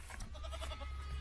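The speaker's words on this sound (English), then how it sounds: "these are Spanish goats, so they know what no mas means." Spanish goats bleat on a farm, a single faint, wavering call over a low steady background rumble.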